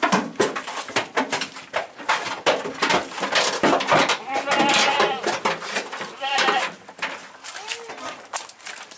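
Goats at a farm keeping Etawa-type stock bleat repeatedly among a crowded pen, wavering calls overlapping one another, close and loud, with people talking underneath.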